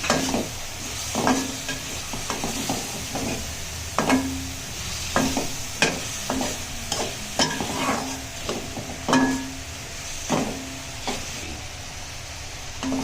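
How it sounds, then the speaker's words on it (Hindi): Bottle gourd is stirred into frying chana dal masala, a sizzling base broken by repeated spoon scrapes and knocks against the pot at an uneven rhythm, close and moderately loud. "अब हम इसमें लौकी ऐड करेंगे, मिक्स करेंगे।"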